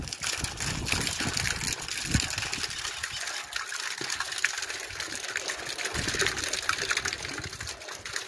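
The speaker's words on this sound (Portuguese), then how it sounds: "Olha que tanto de água que sai" Water gushes and splashes out steadily at close range, a continuous rushing stream with some rumble underneath.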